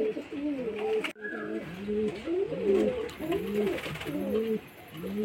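Madras pigeons, a pair kept at home, coo in a repeated rhythmic series of low, rising-falling calls close by, with a brief sharp noise and pause near the one-second mark before the cooing resumes.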